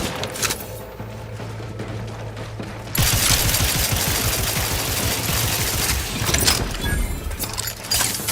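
Rapid sustained gunfire from a gun in The Outer Worlds 2 erupts loudly after a quieter stretch, a dense fusillade of shots that continues for several seconds before easing.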